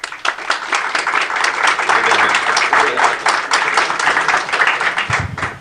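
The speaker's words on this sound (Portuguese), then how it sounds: "Por favor, recebam-no com aplausos também." Dense, loud applause from an audience at a panel discussion event welcoming the moderator, steady clapping that stays even throughout.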